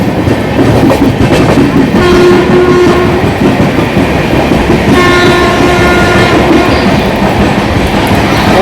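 Daund-Indore SF Express rolling through Vapi station, a loud, steady roar of wheels and rail clatter with sustained horn tones blaring partway through and again later, no voices.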